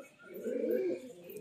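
A large Allahabadi Kaldum pigeon gives a single soft, low coo lasting under a second, close by and fairly quiet.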